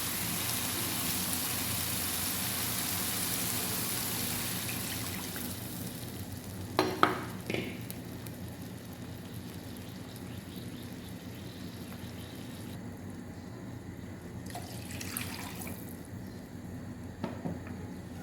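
Water pours into a pot of mint rasam with a steady rushing hiss that later settles into a quieter simmering bed, broken by a couple of light clinks, close and moderately soft.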